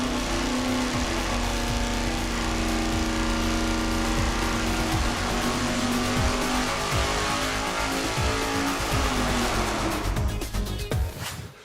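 A carbureted engine roars steadily on a dyno during tuning, holding a loud, constant drone with steady harmonics for about ten seconds before the note drops and sputters at the end.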